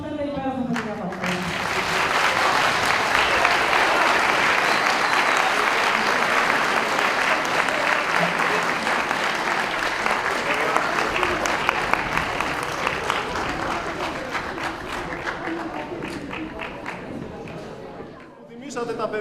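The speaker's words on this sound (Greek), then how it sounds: "χειροκροτήσουμε αυτά τα υπέροχα παιδιά παιδιά" An audience applauds children at a school event, with sustained, dense clapping that builds quickly, holds steady for most of the time, fades briefly near the end, then picks up again. Voices can be heard under the clapping.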